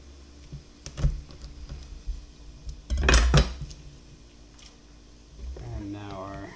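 A knife cutting dried arbol chilies on a board, a few crisp taps and one louder chopping thud near the middle, close up, with a voice speaking briefly near the end.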